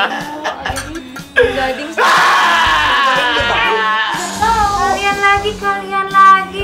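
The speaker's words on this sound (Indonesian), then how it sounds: "Dengar teriakan lu, gigi gua nih tambah nyut-nyutan." A high, wailing scream rises abruptly and carries on for several seconds, strained and loud, over some background voices.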